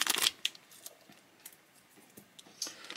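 Tape is peeled and torn from a pack of NFL and NBA trading cards, with sharp crinkling bursts followed by softer scattered rustles and taps, close up.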